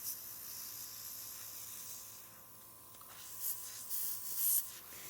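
An air nails airbrush gun, flushed with a few drops of clear water, sprays in a soft, steady hiss with a few short, sharper bursts toward the end.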